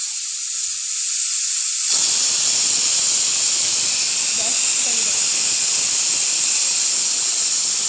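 A kitchen pressure cooker sounds its third whistle, a loud steady hiss of steam that bursts in abruptly after a short quiet start and keeps blowing without a break.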